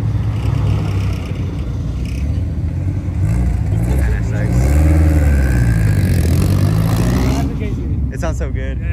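A Honda K-series car engine revs and rumbles at a cars and coffee meet, loud and close, swelling midway, with people talking over it.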